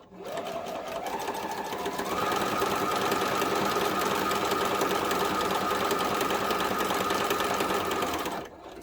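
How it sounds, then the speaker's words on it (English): A sewing machine runs steadily, stitching appliqué pieces onto a Halloween wall hanging, its motor hum rising slightly in pitch early on and then holding a continuous whir for about eight seconds before stopping. "we're going to head over to the sewing machine and we're going to stitch that down"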